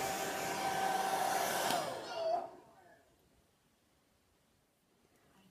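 A hair dryer blows with a loud, steady whoosh and whine for about two seconds, then switches off and leaves near silence.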